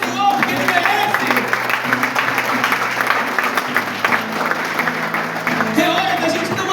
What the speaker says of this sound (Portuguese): Vamos aplaudir o Senhor, porque Ele merece